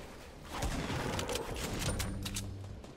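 A grenade blast in Fortnite Battle Royale: a single dull boom that swells and lingers briefly, fairly close, with no talk over it.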